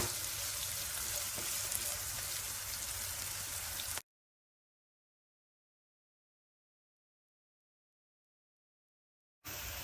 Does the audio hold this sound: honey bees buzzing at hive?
no